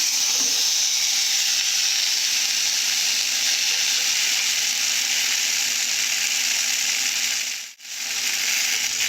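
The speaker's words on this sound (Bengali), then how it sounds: "আপনারা এইভাবে আলু কেটে নেবেন আলুগুলো ভেজে নেবে প্রথমে" Cut potatoes frying in hot oil for a Bengali rohu fish curry, making a steady, dense hiss of sizzling throughout with a brief dip near the end, close and without talk.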